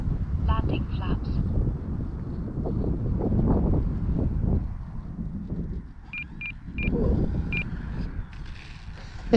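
Wind buffets the microphone at a radio-control flying field as an E-flite electric plane flies, a loud, uneven low rumble that swells and eases throughout, with short electronic beeps and someone talking over it.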